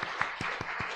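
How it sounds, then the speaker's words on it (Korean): A church congregation at a Korean Sunday worship service claps in blessing: a short, faint burst of a few evenly spaced claps. "다시 한번 우리 축복의 박수를 보내드리겠습니다"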